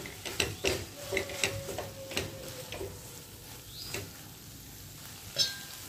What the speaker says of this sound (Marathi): छान सगळं मिक्स करून घेऊया